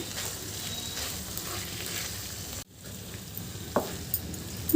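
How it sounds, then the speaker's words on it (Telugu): Ginger-chili paste and coconut being stirred into brinjal curry frying in a pan, with a steady soft sizzle underneath and a few louder scraping stirs near the end. "అల్లం పచ్చిమిర్చి కొబ్బరి వేసుకున్నాం కదా ఇవన్నీ ఇందులో వేసుకొని కలుపుకుందాం"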